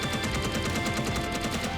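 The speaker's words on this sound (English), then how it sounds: "our auto cannons outside are giving the ants the what for" Auto cannons fire on ants in the video game Space Engineers, a dense, rapid, continuous barrage of loud mechanical gunfire with fast rhythmic bursts and no pauses.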